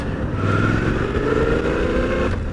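A Suzuki V-Strom 800DE Dirt Edition motorcycle is ridden at slow speed, its engine a close, steady drone with a gently rising pitch as it picks up revs, with wind rush over it and no talking.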